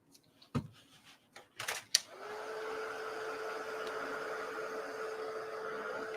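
A hair dryer or heat tool blows steadily over paper sprayed with distress spray after stencilling, with a continuous whirring hum that starts after a few short knocks and clicks and keeps running evenly to the end.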